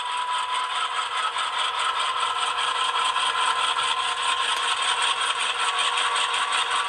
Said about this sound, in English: I'm going to crank my throttle up. And you hear that prime mover respond.